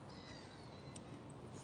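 Seagulls call along a riverside, their cries faint and distant above a steady background hiss.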